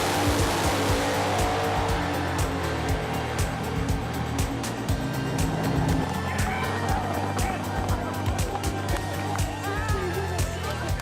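Nitro funny cars in an Aeroflow Outlaw race at Springmount roar down the drag strip, a loud continuous engine blare with crackling bursts and tire noise, with a voice faintly underneath.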